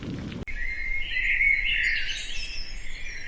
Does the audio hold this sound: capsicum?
no